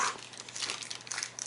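Close, continuous crinkling of protective plastic wrap on a Figma 127 Uesugi Kenshin figure, rustling and crackling irregularly for a moment with no talking.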